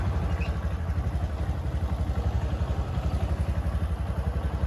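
Small motorcycle engine idling close by with a steady, rapid chugging pulse, moderately quiet and alone with no talking.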